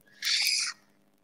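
A single shrill, buzzy swiftlet call lasting about half a second, heard alone against a faint low hum.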